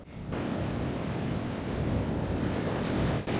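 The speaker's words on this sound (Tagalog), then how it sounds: "Tingnan mo tong alon." Steady broadband rush of ocean surf with wind buffeting the microphone, continuous and loud throughout with no voices.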